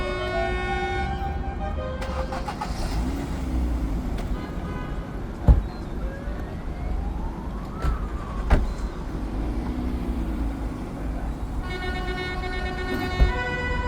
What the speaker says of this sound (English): There is clearly a banger rally going on.